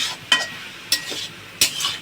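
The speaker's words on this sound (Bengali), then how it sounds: "এখন একটু নাড়া দিই, দেখি কতটা।" Eggplant for bhorta fries in a pan while a spatula stirs it, three sharp scraping strokes spaced through the moment over a soft, steady sizzle, close and fairly loud.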